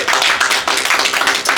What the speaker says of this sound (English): And Clap for Soji.